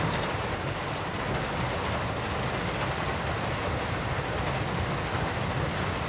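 Steady, dense rumbling ambience at a gravel pit, a continuous broadband roar with low churning texture and no distinct events, constant in level throughout.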